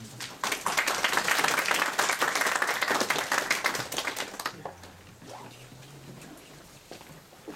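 Audience applause at a teacher training lecture by Cheongju/Jecheon education office, a dense burst of many hands clapping for about four seconds, then fading into quiet room noise with a faint voice afterward.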